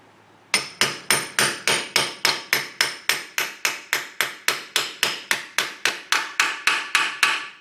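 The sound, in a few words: hammering seal driver to seat Ford 9 inch axle seal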